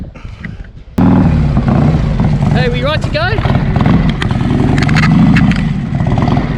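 A Harley-Davidson Street Glide motorcycle engine runs loud and close with a steady low rumble, starting abruptly after the first second and holding through the rest of the clip while people talk over it.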